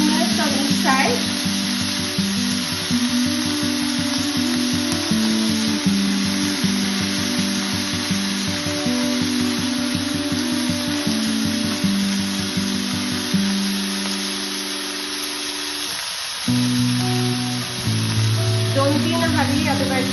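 Coca-Cola chicken wings frying in a pan, a loud continuous sizzle overlaid by a droning, buzzing hum that drops out briefly near the end.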